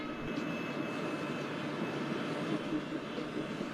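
Steady low rumble of a WDP4B diesel locomotive engine in a train simulator game on the Mewar route, a continuous droning hum with a faint high whine running throughout.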